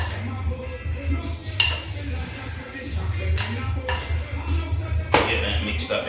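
Curry-seasoned goat meat being stirred in a pot, heard as scraping and clinking of a utensil against the pot with soft shuffling, a few sharper clinks over a low steady background hum.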